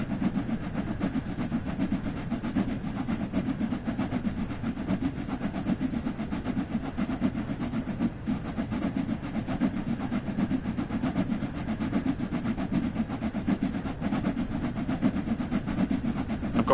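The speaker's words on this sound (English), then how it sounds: "Just enjoy these locos, and the sounds are wonderful." Steam locomotive in the Train Sim World 2 game, Spirit of Steam pack, running along with a steady rumbling chug and clattering rolling noise, continuous and fairly loud throughout with no talk.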